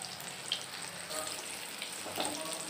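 Brinjal slices pan-frying in oil give a steady, close sizzle with a few brief crackles and pops, heard alone with no talking.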